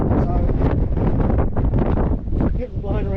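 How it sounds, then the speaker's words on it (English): Strong wind on the summit of Snaefell, Isle of Man, buffeting the microphone in loud gusty rumbles, with voices talking through the blustering noise. "pretty windy on the track, but we're on the top of Snowfell,"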